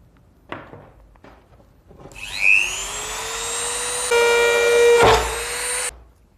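A power drill bores a hole through a plastic water pipe, spinning up to a loud steady whine for a few seconds with a clunk near the end before stopping, close by.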